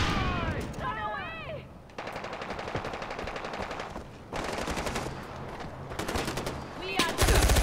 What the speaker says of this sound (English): What's all that shooting?